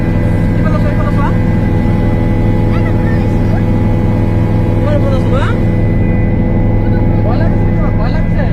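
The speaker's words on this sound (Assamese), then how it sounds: "ইয়া আমি প্ৰাইভেট হেলিকপ্টাৰত আমি গৈ আছো" Steady droning engine and rotor noise inside a private helicopter in flight on a family trip in Manali, loud and continuous throughout, with voices talking over it.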